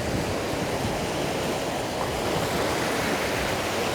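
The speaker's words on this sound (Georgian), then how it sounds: "სულ ესეა ის ზღვა რა." Sea waves break on a beach where black flags warn against swimming, giving a steady, even roar of surf with no voices.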